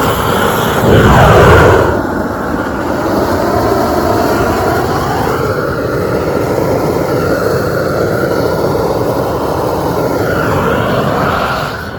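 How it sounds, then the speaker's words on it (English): A supersonic jet flying overhead, a loud roaring rush that swells early and sweeps in pitch, then continues as a sustained broad engine roar, heard alone. "Supersonic jet too."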